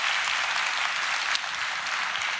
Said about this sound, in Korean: 우리 M 클래식 우리 박수 한번.